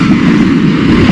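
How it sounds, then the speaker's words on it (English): Motocross bikes at the start gate of an Irish national championship MX2 expert-class race drone together in a loud, dense, continuous engine roar, with no talking. "the riders are ordered to start their engines"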